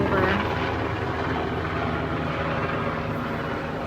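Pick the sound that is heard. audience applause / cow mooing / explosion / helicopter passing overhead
helicopter passing overhead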